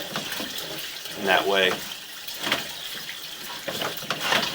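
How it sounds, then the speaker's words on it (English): Water runs through a sewer main during line flushing, a steady hiss and rush under a man's speech. "It looks like they're running some water and stuff."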